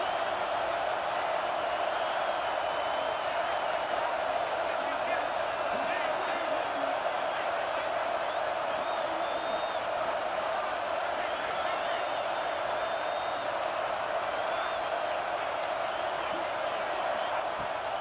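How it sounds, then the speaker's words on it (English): A football stadium crowd roars steadily for the defense on a big third down, a dense, sustained wash of cheering and noise with scattered whoops, loud and constant throughout. "Big 3rd down as the crowd gets behind this defense."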